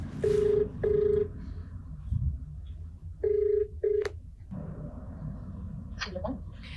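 A telephone rings for an outgoing call in two short double bursts, close and clear, separated by a pause, with faint background rumble and a brief voice near the end.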